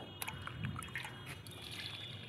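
Water from a bucket trickles and splashes faintly onto potted plants, a soft, steady dribble with small uneven spatters.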